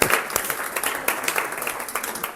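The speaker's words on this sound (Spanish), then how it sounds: "¡Un aplauso!" Applause from a classroom audience of students during a lecture, dense close clapping that runs steadily throughout with a few sharper claps standing out.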